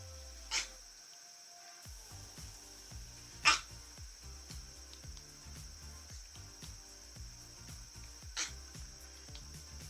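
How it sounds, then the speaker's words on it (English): A small dog named Karkar lets out a few short, sharp barks indoors, spaced several seconds apart over a steady insect-like hum and faint tapping. "you can't bark like that in here."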